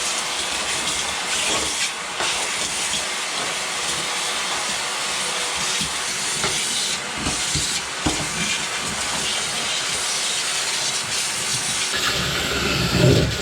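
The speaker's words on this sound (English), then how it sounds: "now that I got this initial vacuuming done" A vacuum cleaner runs over the bare metal floor of a Barracuda car as it is prepped for primer. The suction gives a loud, steady hissing roar that shifts slightly as the nozzle moves, with no voices.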